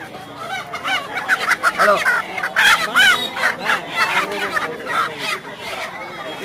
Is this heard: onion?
no